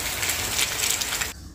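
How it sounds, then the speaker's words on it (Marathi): Heavy monsoon rain pours down as water runs off a terrace, a loud, dense, hissing wash that holds steady and then drops off abruptly near the end. "खूप जोराचा पाऊस सुरू झालाय, आता वाढलाय पाऊस."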